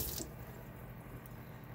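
Tap water runs steadily over a vegetable chopper being rinsed in a sink, a close, even rush with a louder splash at the start.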